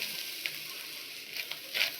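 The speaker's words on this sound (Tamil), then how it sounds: "முந்திரி திராட்சை வறுத்தோலையா அதே பாத்திரத்தில் தேங்காவை போட்டுடலாம்." Grated coconut fries in a pan just used for cashews and raisins, giving a brief, steady sizzle with a couple of soft stirring taps.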